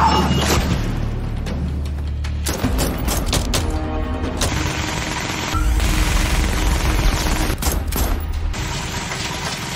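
Sniper video game firefight, with bursts of rapid gunfire and heavy booms layered over a rumbling low background, loud and dense throughout, with sharp cracks clustered in the middle.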